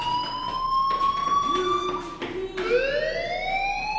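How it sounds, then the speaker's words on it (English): Fire alarm ringing in the video game Life is Strange, a loud electronic tone that holds and then sweeps in pitch, repeating with slight shifts, heard alone without speech. "do you hear that fire alarm? That means you should be outside."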